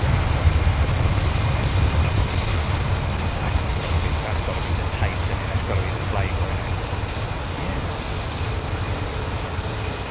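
Boeing 767 jet landing on runway 27L at London Heathrow Airport, a loud, broad engine roar that holds steady throughout and slowly eases off, with no talk over it.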